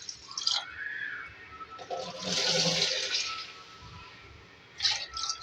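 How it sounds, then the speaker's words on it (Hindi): Water is poured into a cooking pot holding meat, a sustained splashing pour that swells in the middle and trails off into drips, recorded close with no talking. "3 गिलास इसमें पानी ऐड कर रही हूँ।"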